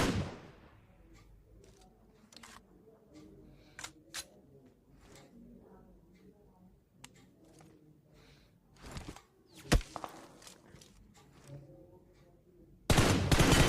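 Sporadic gunfire in the mobile battle-royale game PUBG Mobile: scattered single shots and short bursts, some sharp and loud, over low game ambience, ending in a dense loud volley.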